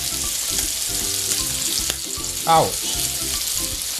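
Vermicelli sizzles steadily on a hot 2-in-1 electric grill pan during a home samgyupsal meal. The frying hiss is continuous and close, broken once by a brief voiced exclamation.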